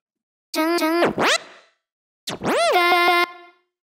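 A chopped vocal phrase processed with a LoopMash effect in Groove Agent SE, stuttered and pitch-swooping, in two bursts separated by a short gap, with glitchy repeated fragments.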